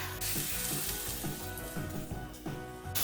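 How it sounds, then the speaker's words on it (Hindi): Chicken kebabs frying in oil in a pan over a low flame, a dense steady sizzle with crackling and popping throughout, close and continuous, no talking. "कबाब इस तरीके से ऐड कर दिए हैं ऑयल में।"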